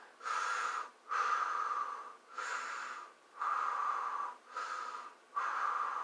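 Slow, audible breaths during a yoga stretch come through close and clear, about five long inhale-exhale cycles in a steady rhythm with short gaps between them.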